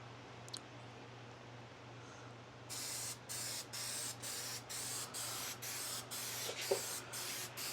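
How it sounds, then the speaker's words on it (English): An adhesive spray can sprays in a steady series of short hissing bursts, close by, after a quiet moment, each spray separated by brief pauses. "So we're gonna go ahead and spray this down."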